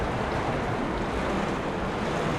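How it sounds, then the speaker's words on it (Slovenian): Stormy wind and breaking waves over the sea off Croatia, heard from aboard a catamaran: a steady, loud roar of surf and gusting wind buffeting the microphone throughout, with no voices. "Gre pa ena nevihta čez"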